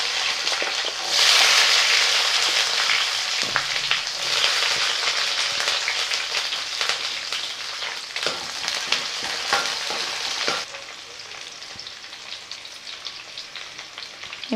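Chopped onions and curry leaves frying in hot oil in a pan for a kuzhambu, a steady loud sizzle with stirring scrapes, easing slightly toward the end, with no talk.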